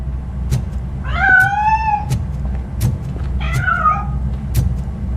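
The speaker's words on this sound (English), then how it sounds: "That cat must be hiding inside." A cat hiding inside a piano in RoboCop: Rogue City gives two clear, drawn-out meows, the first longer and wavering, over a low steady engine-like rumble and occasional sharp ticks.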